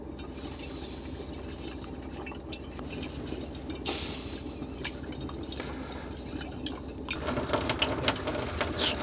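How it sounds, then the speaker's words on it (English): Water runs steadily through the plumbing as the hot water tank of an Elddis Autoquest 145 motorhome fills, a continuous close hiss and trickle that grows louder and more turbulent toward the end. "the hot water tank's filling up, the water's flowing through now"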